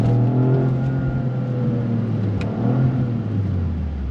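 A 2025 Toyota GR Corolla with an 8-speed automatic accelerates hard in first gear, its engine note rising loud and close, then dipping with a quick upshift and climbing again toward a 7,000 RPM redline.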